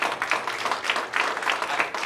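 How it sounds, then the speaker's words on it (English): A comedy hypnosis show audience claps together, a brief burst of scattered hand claps with uneven pulses that stays moderately loud for two seconds. "I appreciate that clapping."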